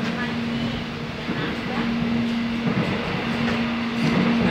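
Inside an airport rail link train running from Soekarno-Hatta to Sudirman station, a steady loud rumble and hum with a constant tonal drone, continuous for the whole stretch.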